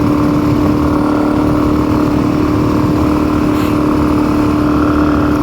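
A motorcycle engine runs steadily during a first ride on a bike suspected of having a fault, giving a loud, continuous drone with a strong steady hum and no pauses or voices.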